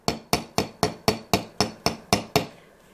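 A toy hammer strikes a nail ten times in an even, quick rhythm. Each tap is close and sharp, then the tapping stops and the clip goes quiet.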